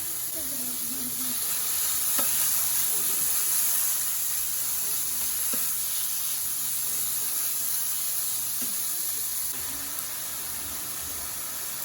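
Thinly sliced steak sizzling on a Blackstone 17 inch E Series griddle, a steady close hiss and frying crackle throughout, with occasional scraping knocks of a spatula against the flat-top.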